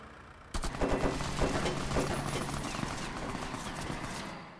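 Gunfire in a frontier-setting game, a sudden burst of rapid overlapping shots breaking out after a brief quiet and continuing as a dense rattling volley mixed with hoof-like clatter, loud and close.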